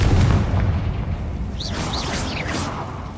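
A Confringo explosion spell in the Hogwarts Legacy video game: a deep booming blast at the start that rumbles and fades, followed by faint higher fizzing effects.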